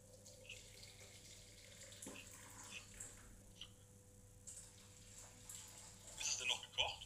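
Freshly boiled water, 100 millilitres, poured into a plastic container while cooking a chicken tikka masala curry: a faint, steady splash and trickle, with people talking over it.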